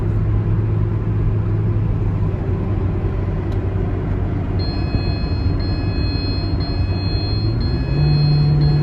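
Steady, loud road rumble from inside a car cruising at about 55 mph on a highway with an 80 mph limit, a broad continuous drone with a low engine hum that rises slightly in pitch near the end.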